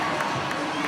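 Hockey fans cheer in an arena during a college game against Clemson, a broad, loud roar of crowd voices that stays steady and fills the space throughout.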